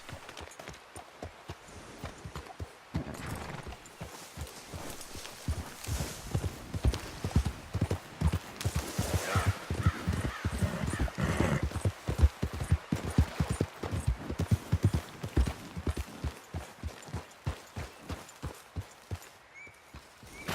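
A horse gallops in the Red Dead Redemption video game, producing a fast, steady run of hoofbeats that rises and stays loud for most of the stretch, backed by a low game ambience and no talk.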